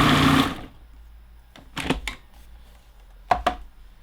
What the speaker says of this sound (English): Just going to give it a couple of pulses real quick to mix in the lime